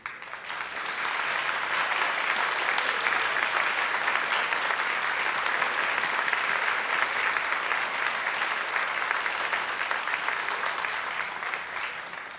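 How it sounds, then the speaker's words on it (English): Audience at a college academic and leadership awards convocation breaking into loud, sustained applause, dense clapping that swells quickly, holds steady for about ten seconds, then tapers off. "give them a huge round of applause as well"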